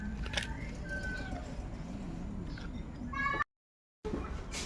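A cat meows while being fed in a rural home, several short mewing calls over steady background noise, with a brief dropout near the end.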